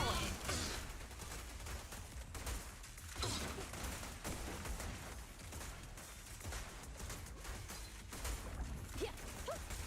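Rapid bursts of Suppressor K-22 gunfire from a video game rattle on continuously at close range, dense and mechanical, with scattered crashes mixed into the fire.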